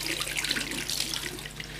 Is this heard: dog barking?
no